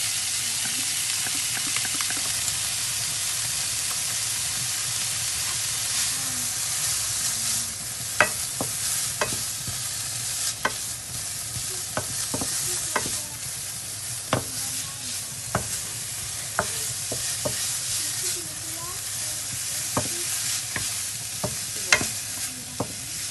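Lardons fry in a pan for boeuf bourguignon garnish, a continuous sizzle broken by regular sharp scraping clicks as a utensil stirs them, close and steady with no voices.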